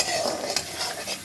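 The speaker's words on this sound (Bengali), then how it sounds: "হলুদটাও ভাজা হয়ে গেছে," Ground turmeric frying in hot oil in a pan for a sour-spicy olive dal, giving a brief, steady close sizzle with a light stirring scrape and no voices.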